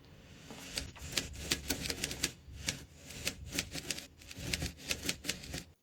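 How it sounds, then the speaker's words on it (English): A mechanical typewriter clacks away in quick irregular bursts of sharp keystrikes, close and crisp, with brief pauses between runs. "Oh, the typewriter."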